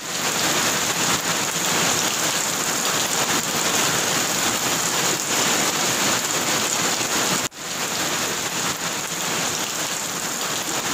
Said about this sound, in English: They send showers of water to the earth in form of rain.